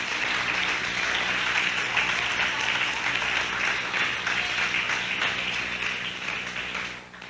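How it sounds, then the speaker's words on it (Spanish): Sustained applause from a church congregation during a 1999 evangelical sermon, a dense wash of many hands clapping at steady loudness throughout, tapering slightly at the end. "Dale un aplauso a Jesucristo en esta noche."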